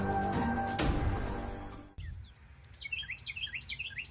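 A bird chirps outdoors in the early morning, a quick run of high repeated tweets that follows a loud low rumbling noise, fairly near and with no speech.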